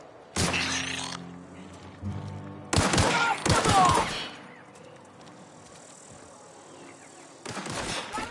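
Gunfire in the Outer Worlds video game, with three loud bursts of rapid shots separated by quieter gaps, close and sharp, with a voice briefly shouting between volleys.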